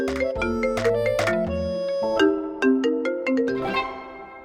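A phone ringtone plays loud and clear as a bright, melodic electronic tune, with a run of synthetic notes and chords over a few seconds.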